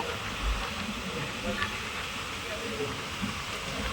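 Continuous rumbling roar of a train moving on rails through tea gardens between Jorhat and Dimapur, with hissing wind and occasional low thumps, steady and fairly loud throughout.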